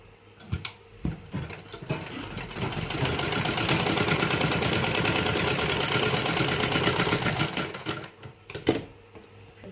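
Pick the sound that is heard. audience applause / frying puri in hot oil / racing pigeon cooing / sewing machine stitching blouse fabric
sewing machine stitching blouse fabric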